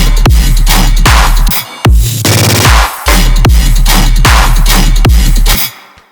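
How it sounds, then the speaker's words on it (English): Bass drop build in an electronic track: a loud, deep low-end groove with repeated hits, broken by a rapid machine-gun roll of stuttered bass hits just past the midpoint before the heavy pattern resumes, with no voices. "we have a machine gun bass on the 4"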